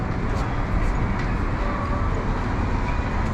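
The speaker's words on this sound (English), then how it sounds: "The return of quite a few trams." Several city trams roll past in a steady, continuous rumble with faint metallic squeals and clatter, blending with general street traffic noise and no clear talk.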